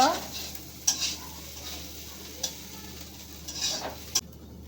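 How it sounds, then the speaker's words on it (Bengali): Meat fries in a pan with onion, chili and ground spices, giving a soft, steady sizzle broken by a few sharp scrapes and taps of stirring. "মাংসগুলো প্রথমে পেঁয়াজ মরিচের সাথে এবং গুঁড়া মশলার সাথে ভালো করে ভেজে নিচ্ছে"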